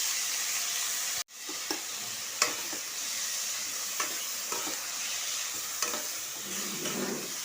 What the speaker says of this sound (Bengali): এবার এতে দিয়ে দেব লাউ পাতাগুলো।